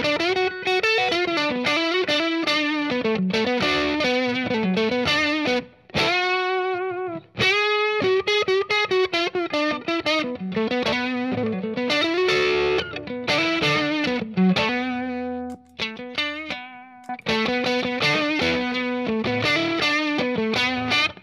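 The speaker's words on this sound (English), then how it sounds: "find kind of a lead distortion sound with the Boss pedal" Electric guitar played through a Boss distortion pedal with heavy distortion, a sustained lead line with bends and brief pauses, loud and close.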